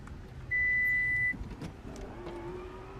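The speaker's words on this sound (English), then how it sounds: "Power tailgate." The power tailgate of a Lexus NX200t operates, with a short electronic chime followed by a quiet motor hum and latch clunk, close by in a calm setting.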